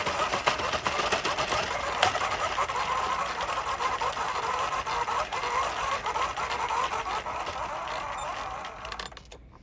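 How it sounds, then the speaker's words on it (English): An Addi knitting machine is cranked round and round, giving a steady, close, continuous mechanical clatter of needles and gears that runs without pause for about nine seconds before stopping abruptly. "we're just gonna crank around, and it takes 2 times around for it to release from the Addi."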